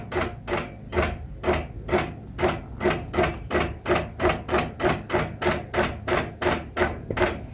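A sewing machine runs a half-inch basting stitch across a quilt, with a steady, rapid, evenly spaced mechanical clatter of stitches heard close and continuous.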